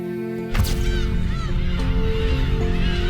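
A colony of black-tailed gulls, more than twenty thousand birds, calls loudly at close range, with overlapping harsh, honking cries rising and falling over a constant background of distant calling.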